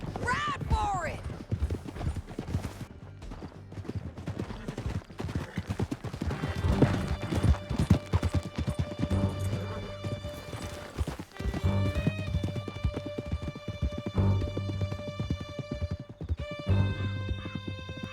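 Galloping horse hooves from Red Dead Redemption 2 clatter rapidly and continuously, with a whinny near the start, gunfire and shouted talk, then swelling music.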